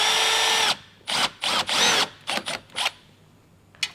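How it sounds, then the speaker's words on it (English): A power drill bores a 7mm hole through a bar while fitting a rear diffuser to a Hyundai i30N, whirring in a sustained burst, then revving in several short, sharp pulses before stopping; close and loud with no talking. "you're ready to drill a 7mm hole through this hole here"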